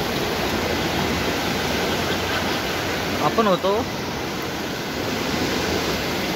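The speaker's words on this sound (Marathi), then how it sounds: "तुम्हाला पाण्याचा फ्लो दाखवतो." Fast-flowing river water near a railway bridge rushes in a loud, steady roar that fills the scene, with someone speaking briefly over it.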